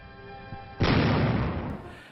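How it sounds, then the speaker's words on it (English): A pneumatic decoy gun position of the Second World War fires, one sudden loud blast after a quiet lead-in, followed by a rumbling roar that slowly fades. "From a distance, when the pneumatic gun position fires, it could be the real thing."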